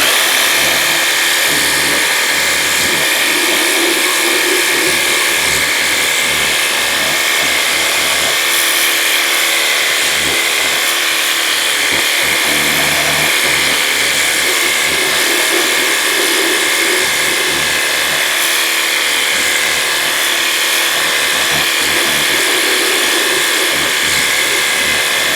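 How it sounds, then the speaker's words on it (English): A Worx Hydro Shot cordless power washer sprays a car tire, making a loud, constant motorized whine and hiss of water that runs without a break at close range, with no speech. "I'm going to take my Works Hydro Shot and rinse this tire off."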